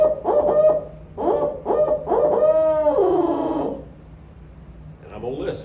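A hunter mimics a barred owl's laughing call with his voice: a run of rising and falling hoots and cackles in quick bursts, close and loud, trailing off into quieter noise.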